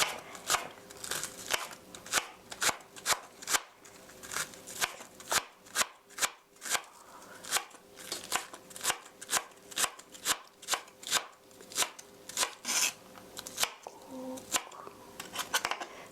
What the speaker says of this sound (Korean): 이렇게 잘게 썰어서 같이 놔주시고요.